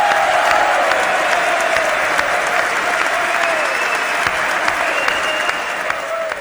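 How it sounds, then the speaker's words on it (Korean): A large audience applauds steadily and without a break at a formal state event, the loud, dense clapping holding for several seconds with faint whoops mixed in. "박수가 끊이질 않았습니다."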